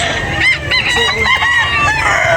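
A rooster crows loudly and close by, one full cock-a-doodle-doo with some clucking around it.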